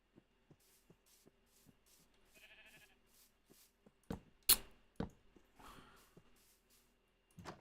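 A Minecraft Bedrock sheep lets out a short, clear bleat amid regular soft footstep-like ticks, followed later by a few louder thumps and a brief rustling burst.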